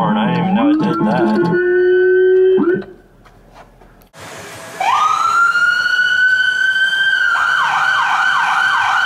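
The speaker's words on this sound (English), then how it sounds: "Check out the air horn, I didn't even know it did that." A police siren system switches among sweeping and yelping electronic tones, then blasts a loud, sustained air horn tone with warbling yelps at the end, close and with no talk.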